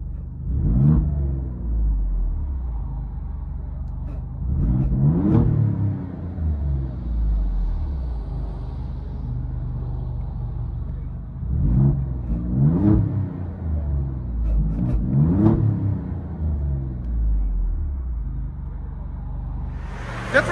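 A V6 engine with 505 horsepower heard from inside the cabin, a low droning exhaust rumble that swells in several rev-ups and fades back to a steady idle-like hum, close and continuous with no talking.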